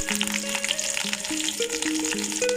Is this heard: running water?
no